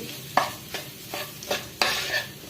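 Chili powder roasting in a pan for a Kerala prawn dish, stirred in five evenly spaced scraping strokes over a soft sizzle, close-up and quiet with no talking.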